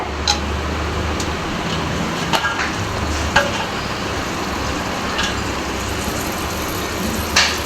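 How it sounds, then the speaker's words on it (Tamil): Dried red chillies, cinnamon and garlic frying in hot oil with a steady, dense sizzle and a few sharp pops and crackles, loud and close, without talk. "இஞ்சி இப்போது இதை நல்லா வந்து இந்த ஆயிலில் வந்து ரோஸ்ட் பண்ணிக்கலாம்"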